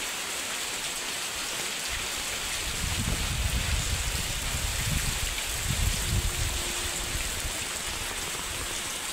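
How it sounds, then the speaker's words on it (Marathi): Heavy continuous monsoon rain in Konkan, Maharashtra, a dense steady roar of rain on surfaces with deeper rumbling swells midway, no voices. "आज 3-4 दिवस झाले सतत कंटिन्यूस पाऊस पडत आहे."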